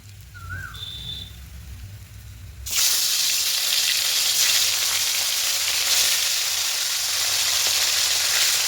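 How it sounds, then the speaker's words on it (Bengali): Pieces of katla fish, for a potato fish curry, hit hot oil with a sudden loud, steady sizzle and spatter that runs on after a few quiet seconds of low background. "এইগুলোকে লাল করে ভেজে তুলে নেব।"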